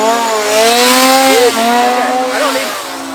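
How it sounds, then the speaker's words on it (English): A loud, steady engine drone with harmonic whine that rises and falls briefly, a chainsaw revving continuously nearby at Halloween Horror Nights 2023. "Stay away, chainsaw."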